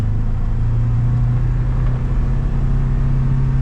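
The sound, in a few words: Polaris Ranger XP1000 utility vehicle driving in standard mode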